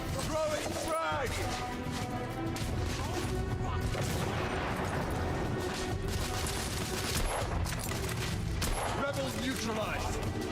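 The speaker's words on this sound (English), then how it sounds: "Throwing frag." Frag grenade blast amid gunfire in the Victorian London shooter The Order: 1886, loud continuous bursts of shots, booms and crashes filling the scene, with a character's voice breaking through the din.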